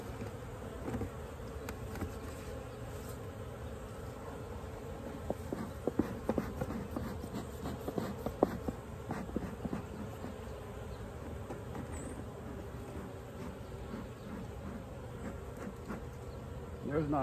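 Bees buzz steadily around a hive feeder filled with dry sugar, a dense continuous drone with many insects close by and no talking.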